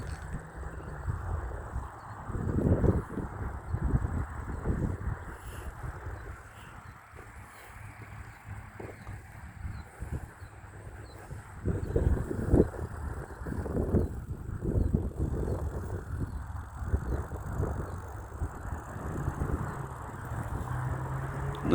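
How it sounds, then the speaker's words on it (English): Wind blows through an outdoor cemetery, a rough low rumble and buffeting against the microphone that rises and falls in gusts throughout, with no voices. "That's because it is windy."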